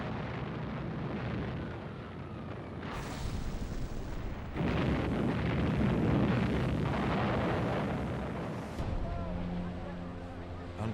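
WWII D-Day bombardment off the Normandy coast, with heavy explosions merging into a continuous roaring rumble that swells louder midway and stays dense and close throughout.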